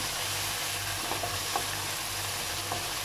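Potatoes stirred and fried with spices in a pan over medium-low flame, giving a steady continuous sizzle with a few soft scraping stirs.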